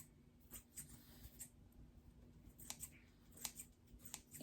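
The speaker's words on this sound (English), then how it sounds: "you can just take your scissors. Don't cut the material. Just go around" Scissors snipping around the fabric edge of a scrap rag hotpad, a string of quiet, crisp cuts at an uneven pace, close and faint in an otherwise quiet room.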